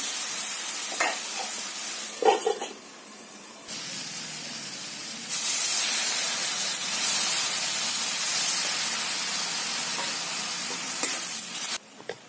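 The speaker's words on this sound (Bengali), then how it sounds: "অল্প অল্প জলে ছিটে দিয়ে দিয়ে এটাকে আমি সেদ্ধ করে নেব" Drumstick leaves are steamed in a pan with sprinkled water, giving a continuous close hiss and sizzle that jumps louder in steps as more water hits the hot pan, with faint stirring knocks and no talk.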